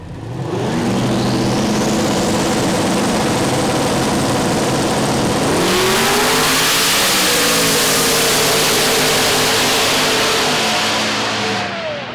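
A 1,200 horsepower turbocharged LS drag car with a Turbo 400 transmission makes a no-prep drag pass. The engine roars loud and sustained, climbing through a shift partway through and holding a hard, continuous run to the end.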